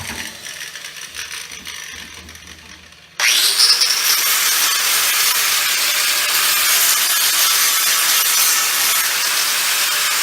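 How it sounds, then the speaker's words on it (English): An angle grinder grinds down welds on a mini bike frame. After a few seconds of low background noise the tool kicks in abruptly and keeps up a loud, steady, harsh whine to the end. "We're grinding these welds down."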